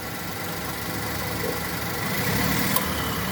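A car engine runs steadily with the AC compressor engaged after a belt squeak fix, a continuous close idling drone and hum with a faint click near the end, no talk.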